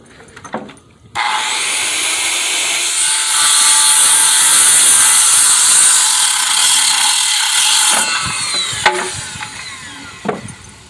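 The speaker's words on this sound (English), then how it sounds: "Take my saw. You go ahead and cut this." A power saw cuts through deck lumber for pool deck stairs, a loud sustained whining rip lasting several seconds after a brief startup, then spinning down with a few clunks and knocks as the board drops free.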